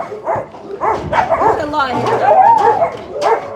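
A large German Shepherd mix dog barks and yips a few times close by at a municipal animal shelter, mixed with whimpering, while a person speaks over it.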